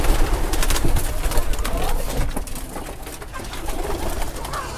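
Breeding pigeons in a farm loft coo in low, rolling, repeated calls that sound close and fairly loud, mixed with rustling and soft background noise, and nobody speaks.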